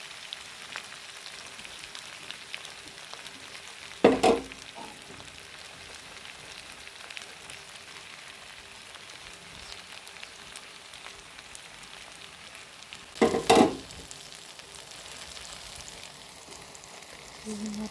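Bitter gourd frying with masala paste in hot oil gives a steady, soft sizzle that runs throughout, broken by two brief loud clanks of a utensil against the pan.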